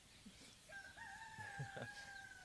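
A rooster crows in a long drawn-out call, fairly distant, as chickens cluck and squawk around it outdoors during a Beltane ceremony.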